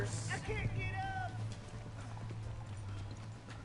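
Horse hooves clip-clopping in a Wild West life-sim video game, a steady rhythmic patter under ongoing talk and a whinny-like sweep near the start, with a low constant hum throughout.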